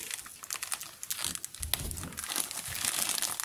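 Small plastic packet from a boxed ENKEI SL47 R18 wheel set being handled and opened, close-up irregular crinkling and crackling bursts that grow denser toward the end.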